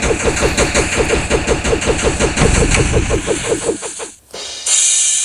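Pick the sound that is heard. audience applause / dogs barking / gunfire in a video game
gunfire in a video game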